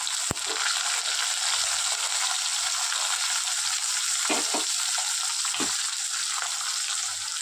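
Eggplant frying in a pan with lightly fried grated coconut gives a steady, loud sizzle throughout, with a few brief stirring scrapes and soft clatters breaking through; no one speaks.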